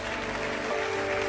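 A church congregation applauding during a worship service, a short dense burst of many hands clapping, fairly faint and even, with a tonal hum underneath.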